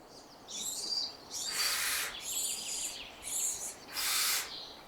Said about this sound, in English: After a hard night's hunting, the mother barn owl is exhausted.